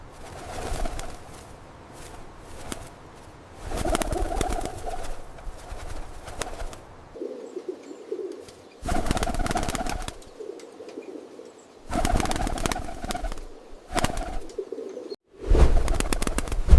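Rock doves cooing inside a large domed breeding facility, with bursts of loud wing flapping as juvenile birds take off together, repeating several times over a steady murmur of calls.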